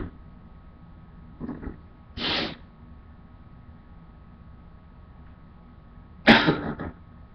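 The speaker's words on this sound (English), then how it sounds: "I always cough sometimes when I induce, like with Q-tip" Several short coughs and throat-clearing bursts come from a person inducing sneezes with a Q-tip, a couple of brief ones early and a louder harsher burst near the end, separated by quiet room tone.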